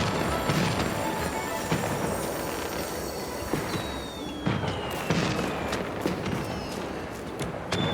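Fireworks crackle and burst continuously in the video game Infinity Nikki, with sharp pops, rising whistles and a dense hiss of sparks filling the scene.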